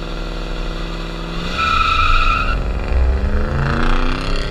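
A loud, raspy Mercury Marauder engine with cut-out mufflers revs up and holds a deep, rumbling growl, its pitch climbing and settling, close by with no muffling.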